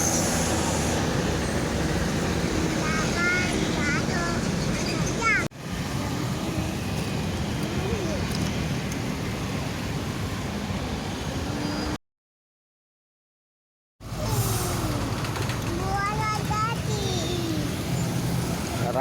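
Steady roadway rumble as a Sari Harum intercity bus coming from Bandung passes a roadside spot near a bus pool, loud and continuous with other traffic, broken by a brief silent gap before the noise resumes.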